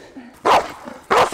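A police dog barks twice during a training arrest, two loud, close, sharp barks separated by a short pause.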